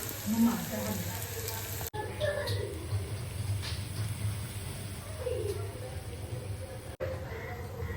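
Potatoes sizzling in hot oil in a home kitchen pan, a steady bubbling hiss that continues throughout with brief cuts, loud and close.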